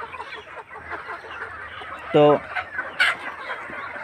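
Chickens clucking at a local market where poultry is being sold, with one loud, close burst of rapid clucks near the middle over steady market murmur and a brief voice.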